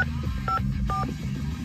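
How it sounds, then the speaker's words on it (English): A few short electronic dialing tones from a Mitsubishi 3000GT factory car phone beep in quick succession over a low background hum from music playing quietly. "Let's dial a number again."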